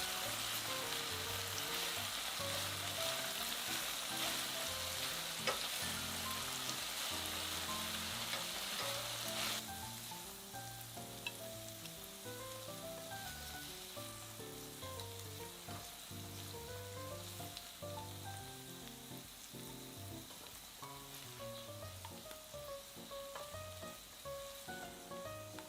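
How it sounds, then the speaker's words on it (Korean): Tofu pan-frying in oil until golden, a continuous soft sizzle and crackle held close and even for the whole stretch, easing slightly partway through, with no voices. "이렇게 기름에 한번 지져서 졸이면 두부가 부서지지 않고 잘 졸여집니다."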